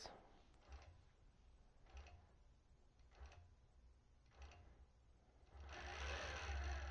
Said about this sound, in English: It's going to begin doing its tie-off stitches.